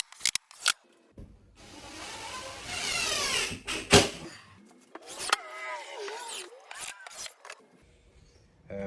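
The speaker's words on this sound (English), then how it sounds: "I'm just gonna keep putting screws in." A power screwdriver whines up in short bursts, driving screws into a sound-reduction wall under construction, with scraping, rubbing and handling noises between runs, close and moderately loud.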